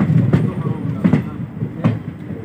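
A train pulling into Cooch Behar railway station, heard close up as heavy, rhythmic wheel clacks and thumps about every three quarters of a second over a low rumble.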